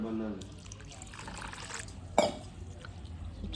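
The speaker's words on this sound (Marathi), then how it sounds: "पोहे सगळ्यात पहिले स्वच्छ पाणी टाकून धुवून घेऊया" Running water splashes and trickles steadily as flattened rice is rinsed, with a brief louder splash partway through, close by and moderately quiet.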